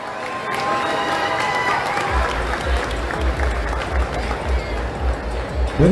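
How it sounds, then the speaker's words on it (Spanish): An audience at a Mister Laguna 2022 pageant applauds steadily, dense clapping and some cheering over a thumping beat of background music, with a voice talking over it. "Un aplauso, venga, para nuestro pastor."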